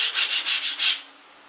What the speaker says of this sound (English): I'm continuing to do this sanding down